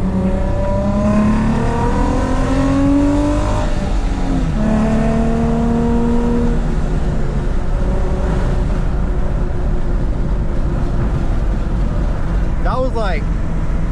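A Nissan G35/350Z fitted with a 75mm throttle body accelerates hard through several gears, engine pitch climbing and dropping at each shift, loud and close from inside the car, with road noise underneath.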